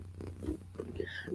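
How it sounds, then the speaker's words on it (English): A cat purrs softly up close, a low steady rumble in a short burst. "I'm happy when I'm purring."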